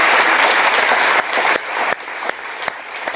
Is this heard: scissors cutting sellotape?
no